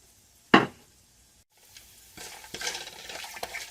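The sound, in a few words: frying whole spices: black pepper, cinnamon, star anise, cloves, cumin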